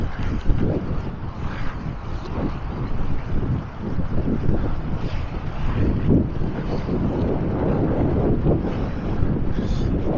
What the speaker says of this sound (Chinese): 今天风比较大啊，我看海里的涌浪还是比较大，海水拍在岸边。